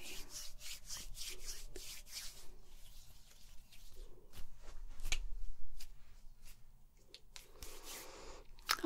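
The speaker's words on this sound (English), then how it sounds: "I'm just gonna rub your shoulders a bit." Steady rubbing and brushing on fabric during a close-up ASMR shoulder rub, soft continuous friction with a few taps and swells and no talking.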